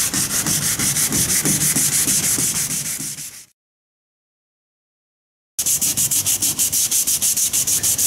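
A car tail light being sanded by hand to strip its film, a fast rhythmic abrasive rubbing that stops for about two seconds of silence and then resumes.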